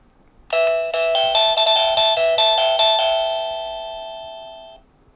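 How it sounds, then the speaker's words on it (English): A bright electronic chime from a wireless doorbell plays the Nokia ringtone, a quick, familiar melody of repeated beeping notes, then fades out over a couple of seconds. Clear and close, no voices. "Wouldn't you just love the Nokia ringtone as your doorbell?"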